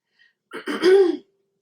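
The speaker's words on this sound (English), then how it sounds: "I tend to clear my throat a lot" A single throat clearing, close and fairly loud, a rough guttural rasp lasting under a second with no talking.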